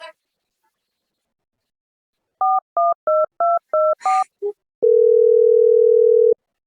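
A mobile phone dials a call: six short keypad tones in quick succession, then a steady ringback tone held for about a second and a half, clear and loud in a quiet room.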